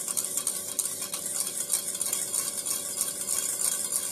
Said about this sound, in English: Now going to keep stirring that as it cools.